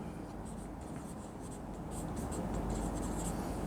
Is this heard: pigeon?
no